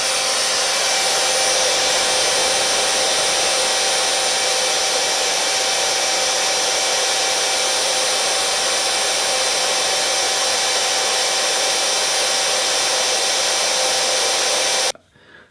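A bandsaw held with a vise cuts a steel oil pan windage tray for an LS-swapped Nova, making a loud, steady, unbroken whine with a high ringing edge that stops abruptly at the end.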